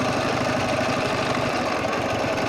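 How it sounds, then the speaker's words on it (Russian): A Ural motorcycle's four-stroke engine idles, a steady, loud, close rumble with an even, knocking pulse and no talk over it. "обычный нормальный четырехтактник."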